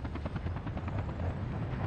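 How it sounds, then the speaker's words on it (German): Construction helicopters building structures in the city-building video game Workers & Resources, with a steady, moderately loud rotor chop throughout and no talking. "jetzt würde ich sagen, lasse ich das alles mit den Hubschraubern bauen"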